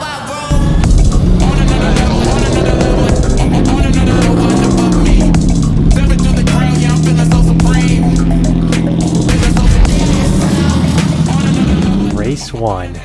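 A Porsche race car at the start of a wheel-to-wheel sprint race, its engine droning loud and steady in close onboard perspective, with rising and falling harmonic pitch as it accelerates, dropping off at the end.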